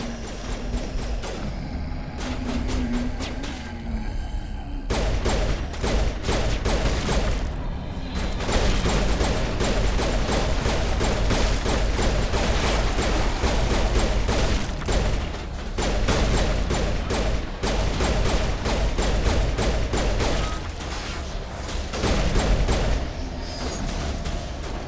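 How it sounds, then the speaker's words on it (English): Gunfire in Mass Effect rattles in dense, continuous volleys of loud shots with heavy booms mixed in, barely pausing during a chaotic firefight. "Alright, who's shooting at us?"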